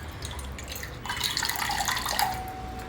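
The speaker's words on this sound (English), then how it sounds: "just take it and dip it in water. Just plain water only, nothing else." Plain water drips and trickles from a paper napkin dipped in water, a light splashing patter that grows busier midway and then thins out.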